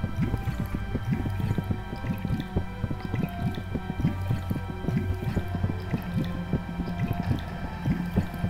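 Water drips and squishes in the Bulb Boy video game, with repeated wet splats and a pouring trickle over a steady game soundscape, fairly close and continuous for the whole stretch.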